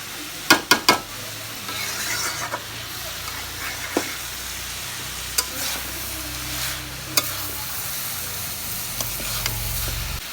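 Thinly sliced kandal frying in oil with a dried chili, garlic and onion, a steady close sizzle broken by several sharp spatula clatters at the start and scattered scrapes of stirring throughout, with no talking.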